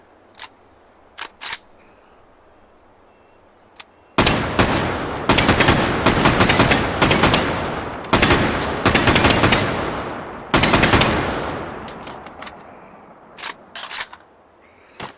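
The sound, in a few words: FAL battle rifle gunfire in H3VR video game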